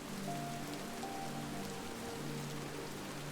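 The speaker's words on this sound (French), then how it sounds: "Certaines personnes remarquent alors qu'elles arrêtent peu à peu d'entendre chaque goutte séparément" Steady rain patters continuously on a surface in a calm summer-night setting, an even wash of drops with no voices.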